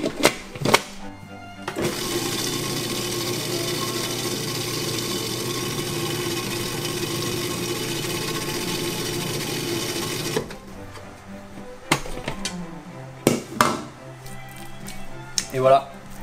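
A blender makes a final spin of homemade basil pesto with added olive oil, a loud continuous whirring motor run of several seconds, with a French-speaking voice and clattering before and after.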